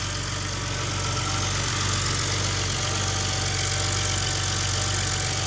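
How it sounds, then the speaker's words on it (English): A BMW E90 330i engine, just back together after an oil leak repair, idles steadily with a constant low hum and faint mechanical ticking, close and unbroken throughout. "car is done. Engine is running again."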